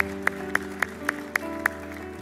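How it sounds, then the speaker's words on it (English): A church congregation claps during a service in a quick, even rhythm of about seven sharp claps over a soft sustained keyboard chord. "Can we give the Lord a hand clap?"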